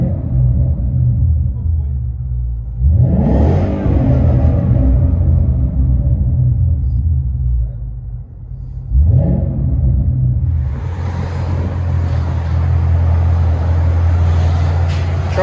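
A 2018 Ford Mustang GT with the 5.0L Coyote V8 and Flowmaster 40 Series dual exhaust rumbles deeply at idle, then roars through two sharp revs before settling back to a throaty burble, with wind noise and a voice at times.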